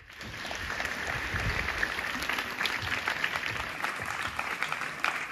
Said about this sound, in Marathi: खास जोरदार टाळ्या.